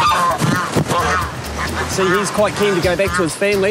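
Geese honk repeatedly close by, loud nasal calls overlapping with someone speaking through them.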